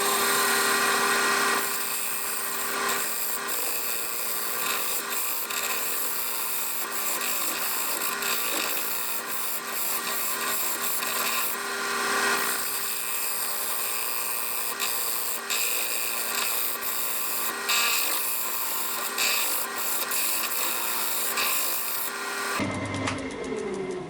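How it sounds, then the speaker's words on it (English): A gouge chips away at the corners of a winged wooden bowl spinning on a woodturning lathe, making a steady, close scraping rasp that runs almost without a break and cuts off near the end. No voices. "I'm just starting chipping away at these corners now, trying to get a bit of shape on them."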